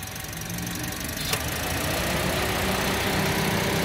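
A used 2016 Daihatsu Sigra R Deluxe with a smooth-running engine idles with an even, steady hum and a single brief click partway through, with no voices.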